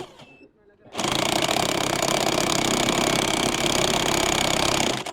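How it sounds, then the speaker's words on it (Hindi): A scooter engine with its CVT exposed and the driver pulley spinning starts up and then runs loud and steady up close, a dense mechanical clatter and whirr after a brief quieter moment with a voice. "ये देखिए CVT आप वर्क कर रहा है, आपकी ड्राइवर पुली जो है घूम रही है"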